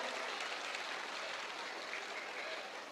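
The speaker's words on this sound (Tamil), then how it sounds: "எவ்வளவு கைத்தட்டல் வருது பாருங்க" Hall audience clapping during a Tamil motivational talk, a dense continuous wash of applause filling the whole moment at an even level.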